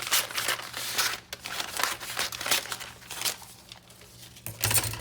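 A paper napkin being trimmed and crumpled at a desk, close crinkling and rustling bursts in an uneven rhythm with brief sharp crackles.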